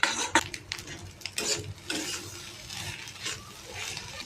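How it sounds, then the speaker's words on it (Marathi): Egg and onion chutney is stirred and fried in a pan, with repeated close scraping and clinking strokes of a spoon over a soft background sizzle. "असं मिक्स करून चांगलं फ्राय करून"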